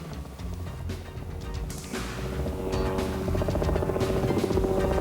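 A modified Cessna 150 picking up an aerial banner makes a droning propeller engine sound that grows louder as it approaches, with a rough, throbbing tone.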